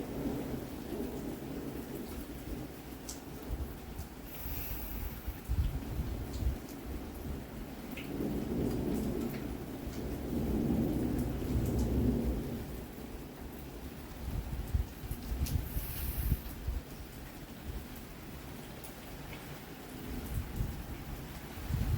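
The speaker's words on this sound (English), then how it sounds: "here comes the rain stronger" Heavy rain and thunder batter the surroundings during a road trip toward New Mexico, with a constant hiss of downpour and several long, low rumbles swelling and fading across the stretch.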